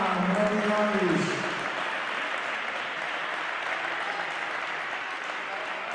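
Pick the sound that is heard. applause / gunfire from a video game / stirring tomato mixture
applause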